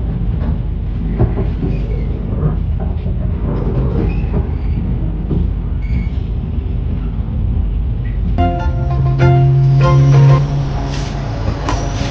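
A Surabaya–Jakarta passenger train pulls into Pasar Senen station in Jakarta, a loud continuous rumble of wheels and carriages, then squealing brakes near the end.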